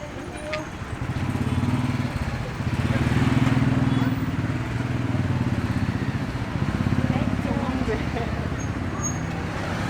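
Motorbike and scooter engines putter and drone by in a narrow alley in Thamel, Kathmandu, at night, rising and falling in waves, with voices talking over the busy street noise.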